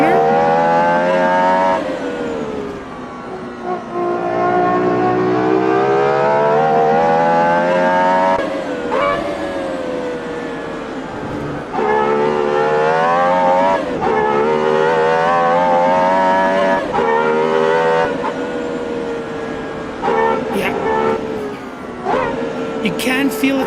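A road car's engine revving hard in a racing video game, rising and falling through the gears in long sweeping pulls, loud and close, with a commentator talking over it.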